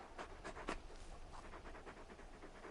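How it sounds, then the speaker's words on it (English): Torgal, the large wolf-dog from Final Fantasy XVI, panting quietly in quick, steady rhythmic breaths, soft and close with no other sounds over it. "You're just a big puppy, aren't you? A very big puppy."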